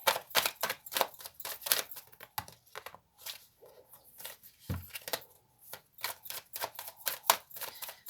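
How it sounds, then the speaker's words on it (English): Large tarot cards are shuffled close up, producing quiet, crisp riffling flutters and taps in short, irregular bursts separated by brief pauses. "cards are quite large, so they're sometimes a bit difficult to shuffle"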